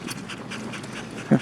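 Several dogs pant steadily and close by at a campsite near a lake, a continuous rhythmic breathy huffing with a brief whimper near the end.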